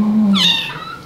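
Kitten meowing once close by, a short rising and falling cry with a brief low tone just before it, then fading away.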